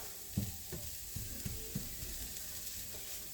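Millet grains cook in a pan for risotto, with a soft, steady sizzle and occasional light stirring scrapes, faint and close, with no talk.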